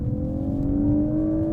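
Brief, moderately loud electric motor whine with a steady pitched hum that rises slightly as the car, a GWM Ora 07 Long Range Ultra or BYD Seal electric vehicle, accelerates over faint road rumble.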